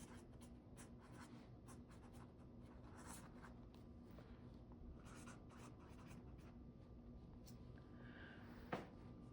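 A pen writes on paper, scratching softly and continuously in short strokes close by, very quiet, with a single small knock near the end and no voices.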